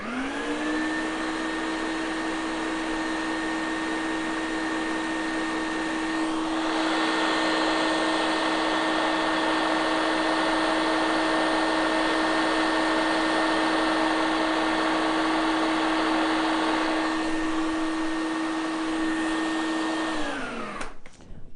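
A food processor grinds nuts with a loud, continuous high motor whine and gritty churning, holding steady for about twenty seconds before spinning down and stopping, no voices over it.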